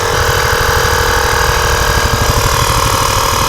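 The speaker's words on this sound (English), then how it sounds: "We'll attach the compressor." A small air compressor runs steadily while inflating a 2-liter plastic bottle, a loud, close, continuous motor drone with a rapid throbbing pulse.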